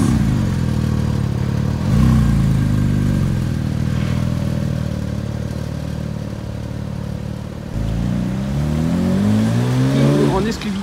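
A Porsche GT4 RS sports car at a rally stop in Gérardmer runs with a loud, close engine drone that swells as it revs around two and eight seconds, with a person's speech over it.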